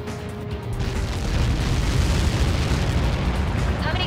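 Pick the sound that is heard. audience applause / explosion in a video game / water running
explosion in a video game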